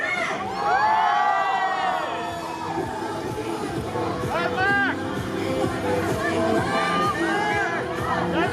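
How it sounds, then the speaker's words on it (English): Crowd at the MotoGP Sepang Saturday riders meet cheers and screams together, a loud sustained roar with shrill whoops and high-pitched children's shouts rising and falling throughout. "Can we all do a cheer together?"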